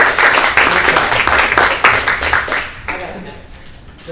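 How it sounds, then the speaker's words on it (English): A crowd at a school board meeting claps loudly in a busy burst, tapering off toward the end, with voices mixed in under the applause. "let's give a round of applause for our wonderful board"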